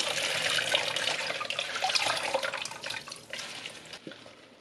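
Tofu skin being rinsed under a running tap, with a steady, close rush of splashing water that holds for several seconds and eases slightly near the end.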